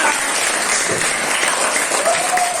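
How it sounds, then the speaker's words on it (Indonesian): A classroom of schoolchildren claps for a classmate named Nesa, a dense, steady patter of many small hands filling the room, with voices faintly mixed in underneath. "tepuk tangan untuk Nesa."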